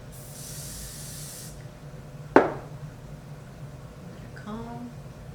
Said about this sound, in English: Now with this section, you're just gonna spray a little bit.